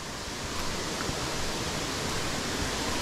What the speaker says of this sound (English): let's get up on the bridge across here and we'll have a look at the waterfall.